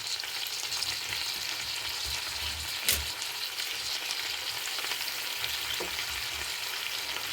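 Pounded green chilli paste and onions frying in a pan, a steady close sizzle with occasional stirring scrapes throughout.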